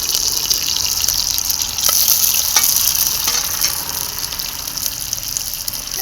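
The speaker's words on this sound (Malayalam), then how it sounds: "ചൂടായിട്ട് നമുക്ക് അതിനകത്തേക്ക് കടുകിട്ട് കൊടുക്കണം അപ്പോൾ കേസ് നമ്മൾ കടുകിട്ട് കൊടുക്കുകയാണ്" Mustard seeds spluttering in hot oil in a pan, a loud, close, continuous sizzle with scattered sharp pops throughout, no voices.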